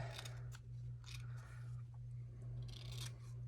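Scissors snip through fabric or batting for a miniature cushion, a few short crisp cuts at close range over a steady low hum, with no talking.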